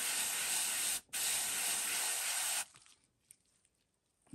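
An airbrush or spray can hisses through a stencil onto a fishing lure, two loud continuous bursts close up with a brief break between them, followed by quiet handling noises.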